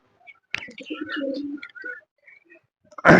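Fancy pigeons in their loft give soft, low cooing calls with a few higher chirps, heard close and alone, ending in a sudden burst of noise.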